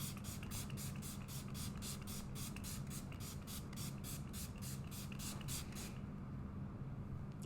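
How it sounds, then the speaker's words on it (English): Setting spray is misted onto a face in a rapid string of short, close hissing bursts at an even rhythm, about seventeen in a row, then the spraying stops, leaving quiet room tone. "I'm going to spray my face with a setting spray."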